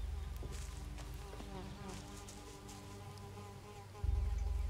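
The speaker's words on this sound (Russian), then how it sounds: "А, вижу, где мухи летают." Flies buzz steadily in the video game Risen, a continuous droning hum over low ambient game music and rumble, holding at a fairly even level before a louder low swell near the end.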